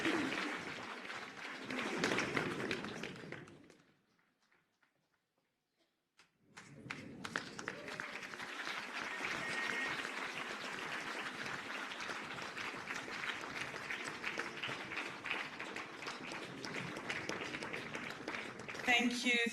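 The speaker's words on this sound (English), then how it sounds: "So let us give the project and the pledges a big round of applause." An audience at an annual charity gala dinner applauds, a dense sustained round of clapping that starts, breaks off into a near-silent pause, then resumes and continues steadily at moderate distance, filling the room.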